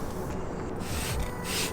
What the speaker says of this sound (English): spray the degreaser.